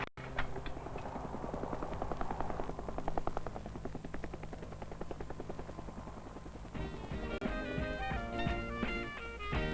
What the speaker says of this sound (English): A helicopter! Come to save me!